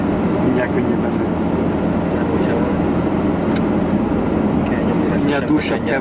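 A car engine drones steadily while driving on a winter road between Akureyri and Varmahlíð in Iceland, a loud continuous rumble with road noise and people talking over it.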